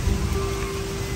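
Rain falls steadily outdoors where banana sticky-rice cakes are being grilled, making a dense even hiss throughout with a faint steady hum beneath.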